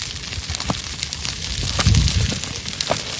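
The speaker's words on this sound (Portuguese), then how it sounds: "os incêndios florestais não dão trégua aos militares do Corpo de Bombeiros" A forest fire burns with a low, rumbling roar and scattered crackles and pops, swelling briefly louder midway, heard close and without talk.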